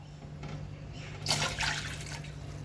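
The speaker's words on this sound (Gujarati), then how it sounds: "હવે એમાં આપણે પાણી એડ કરીશું 2 ગ્લાસ જેટલું।" Water from a glass pours into a pan of melted butter while making spicy Maggi noodles, a steady liquid rush that swells into a louder splashing surge midway, close and alone.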